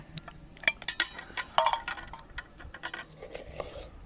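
A metal lid comes off a pot of chicken kalavuna during cooking, giving a few light clinks and metallic taps among faint kitchen clatter, close and fairly quiet with no talking.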